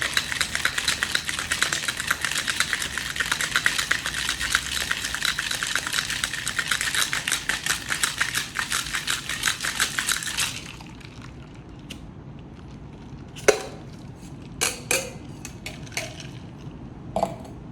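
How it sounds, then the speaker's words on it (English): A cocktail shaker packed with ice is shaken hard for about ten seconds, a dense, steady rattle that stops abruptly, followed by a few faint clinks and knocks of glassware in a quiet room. "And then get that nice and cold and give that a good shake."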